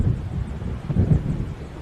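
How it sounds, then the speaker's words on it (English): Low rumbling thunder from an approaching storm in the video game Alan Wake, a deep continuous roll with a slight swell in the middle, heard alone without talk. "It seems there's a storm coming."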